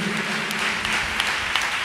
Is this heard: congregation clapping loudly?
yes